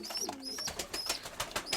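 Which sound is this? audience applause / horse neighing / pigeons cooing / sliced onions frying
pigeons cooing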